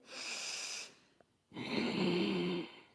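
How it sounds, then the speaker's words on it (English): Ujjayi yoga breathing through the nose with a throaty, hissing rasp: one long breath, a short pause, then a second, deeper raspy breath, close and alone. "That throaty Darth Vader sound is ujjayi breath"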